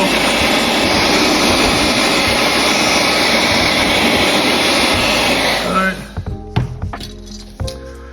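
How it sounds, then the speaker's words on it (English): A heat gun blows steadily and loudly for about six seconds while drying a car hood before an installation, then cuts off, leaving a few clicks and handling knocks. "I just use the heat gun to dry it"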